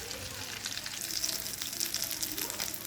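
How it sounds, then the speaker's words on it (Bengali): Sarpunti fish seasoned with salt, turmeric and chili powder sizzles in hot oil on a tawa after being flipped, a steady, close crackling hiss with a few louder pops. "উল্টে দিলাম মাছটা"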